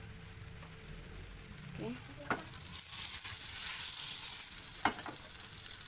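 Spices sizzle steadily in margarine over low heat as they are sautéed for Padang-style shrimp sauce, with soft stirring clicks and scrapes in the pan; a brief word is spoken near the start.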